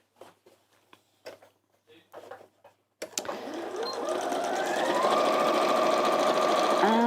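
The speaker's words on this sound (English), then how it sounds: "And now we're going to sew down each side and leave a gap." A sewing machine stitches down each side of a fabric doorstop, starting after a few seconds of quiet bumps and handling noises, then running steadily and close, its whir growing gradually louder.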